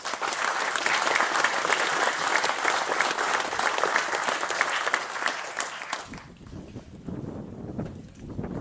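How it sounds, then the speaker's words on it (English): Dense audience applause at a farming progression and equity growth session in Te Kuiti, steady and full for about six seconds before cutting off abruptly into quieter room noise. "So if you give me a round of applause for these four boys."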